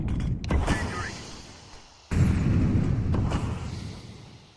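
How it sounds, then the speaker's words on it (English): Grenade and incendiary blasts in a first-person shooter, two heavy muffled booms a couple of seconds apart, each swelling into a low rumble that slowly decays. "Grenade out. Incendiary out."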